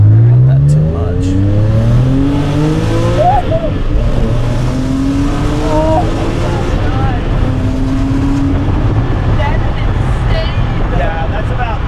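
A Porsche 987 with a rebuilt 4.1L turbo engine runs at roughly 40% throttle on a warm-up pull, a loud, close drone that rises in pitch again and again, with someone talking over it.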